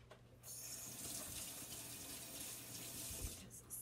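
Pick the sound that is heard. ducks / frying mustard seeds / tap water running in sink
tap water running in sink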